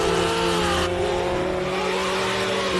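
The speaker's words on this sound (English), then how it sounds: "one of those cars that you feel almost before you hear it" A race car at the Simola hillclimb roars loudly and close by, its engine holding a rich, buzzing drone that shifts pitch as it revs, with a sharp change in the note partway through.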